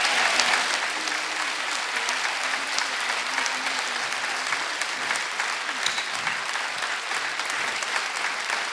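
Audience applause at a parody comedy show, steady sustained clapping from a crowd filling the whole stretch at strong volume.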